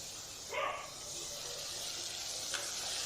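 Ground tomato sautéing in a pan for tamarind curry gives a steady, fairly quiet hiss, with two short louder bursts of stirring, one early and one near the end.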